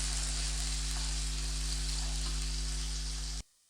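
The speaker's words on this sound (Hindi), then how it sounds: "लहसुन का पेस्ट जो बनाया था ये मैं इसमें डालूँगी। इसको गोल्डन ब्राउन होने तक भून लेंगे अच्छे से।" Onion and garlic paste sizzles steadily in a hot pan as it fries toward golden brown, a loud continuous hiss that cuts off abruptly near the end.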